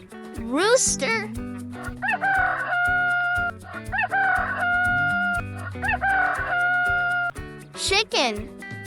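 A rooster crows loudly twice, once near the start and again near the end, each crow a rising, wavering call over steady background music, with a voice speaking briefly.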